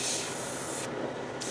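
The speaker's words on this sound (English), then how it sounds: "Now I'm using the Gaahleri Serene Air compressor, so you should be able to hear me talk." An airbrush sprays paint, driven by a Gaahleri Serene Air compressor: a loud, close, continuous airy hiss that holds steady, then thins slightly near the end.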